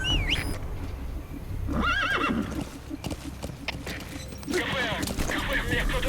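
Horse neighs and whinnies in Metal Gear Solid 5, with a rising whinny early on and another around the middle, over clip-clopping hooves and game ambience, then a brighter burst of effects near the end.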